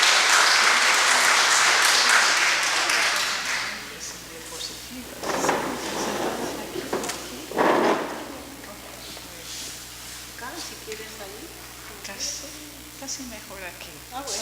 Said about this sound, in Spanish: recibámosla con un aplauso, por favor